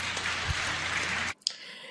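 An audience at a university general assembly applauds with a dense, steady clatter of clapping that cuts off abruptly, followed by a few isolated claps in the quiet.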